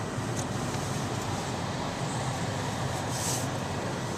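Steady low engine rumble and road noise from a 2011 Toyota Tacoma pickup truck cruising along, continuous and fairly loud with no talking.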